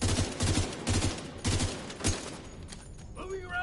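Rapid bursts of automatic gunfire in The Division 2 video game, several loud rattling volleys in a rhythmic pattern that thin out toward the end with quieter game sounds.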